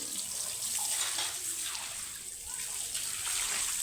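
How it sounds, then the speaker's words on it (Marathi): Water pours steadily from a tap into a container, filling it for washing clothes; a constant broadband splashing rush runs close and fairly loud for the whole stretch with no talk. "त्यासाठी पहिले पाणी भरून घेतो"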